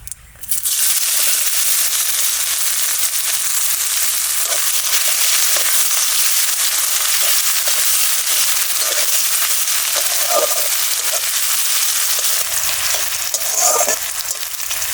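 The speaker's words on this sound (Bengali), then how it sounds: "পেঁয়াজটা সুন্দর লাল লাল করে ভাজা হয়ে গেছে" A medium-sized chopped onion fries in hot oil after dried chilli and cumin, a loud, close, continuous sizzle that holds steady for the whole stretch, with faint scraping stirs near the end.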